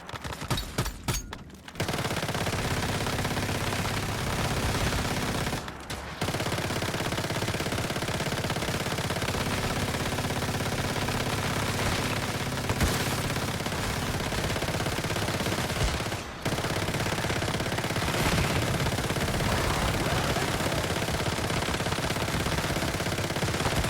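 An ice gun fires in the video game Once Human in loud, sustained automatic bursts that carry on almost continuously, broken only by a few brief pauses.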